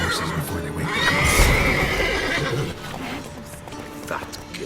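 Horses in The Witcher 3 video game neigh and whinny loudly, with the clip-clop of hooves underneath, the call swelling near the middle and then fading into quieter movement.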